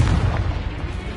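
A Confringo fire spell bursts in the Hogwarts Legacy video game, a loud, rumbling low boom that fills the moment and fades without a clear tail.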